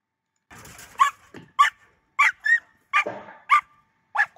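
A dog barking during monkey-dog training in Naka, Japan, where it is taught not to fear wild animals, with deer standing in for monkeys: about seven sharp, close barks in an uneven rhythm, mixed with short yips and whimpers.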